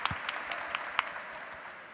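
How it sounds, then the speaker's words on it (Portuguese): An audience at a literary talk event claps for a poet, a soft scattered round of applause with a few sharper individual claps that fades toward the end. "Palmas para nossa poetisa também."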